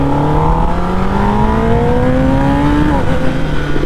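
A Kawasaki Ninja ZX-10R motorcycle engine revs up close and loud, its pitch climbing smoothly in a steady rising whine before dipping briefly near the end, with no voices.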